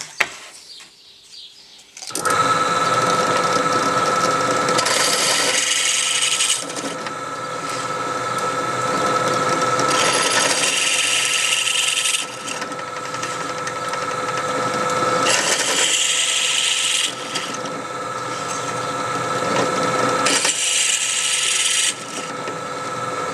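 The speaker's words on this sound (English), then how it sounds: "I'm actually going to drill out the back hole in each of the fans" A power drill whines steadily as it bores holes into small fan housings, running in several long bursts separated by brief pauses, close and loud.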